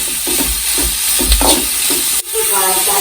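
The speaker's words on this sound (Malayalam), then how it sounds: "ഇനി ഇതെല്ലാം കൂടെ അത്യാവശ്യം വാടി വരുന്നവരെ നല്ല രീതിയിൽ ഒന്ന് ഇളക്കി കൊടുക്കണം." Ingredients for an Idukki-style boti curry sautéing in a pan, stirred steadily so a continuous sizzle carries repeated scraping strokes, close and fairly loud, with no voices over it.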